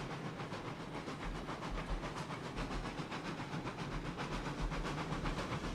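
A steam locomotive in the game RailRoads Online runs steadily, giving a continuous chuffing hiss with rhythmic low rumbling and track clatter, moderately loud and close, with no voices.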